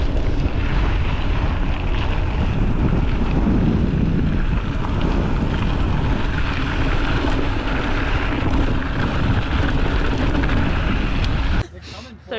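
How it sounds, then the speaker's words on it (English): Wind buffets the microphone during a bike ride, a loud, continuous rumbling roar with gusty fluctuations, ending in a brief knock. "Can't complain about the wind right now."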